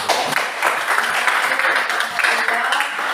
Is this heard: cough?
no